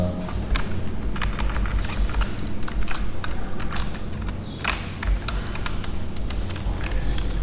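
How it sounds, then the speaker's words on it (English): Rapid, uneven clicking of keys on a computer keyboard as code is typed into the Dr. Racket programming environment, a steady run of close, crisp taps with no talking. "you could type the code"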